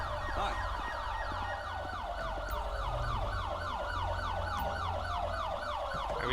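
Police and ambulance sirens in a police roleplay video game near Paleto Bay, several wailing, overlapping sirens cycling steadily up and down, continuous and fairly prominent, with a low engine rumble beneath.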